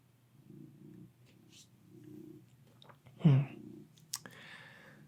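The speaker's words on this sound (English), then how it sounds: "you make your biscuits and you purr" A cat purrs softly in low, steady pulses close by, with a brief rustle and a faint click partway through; no one speaks.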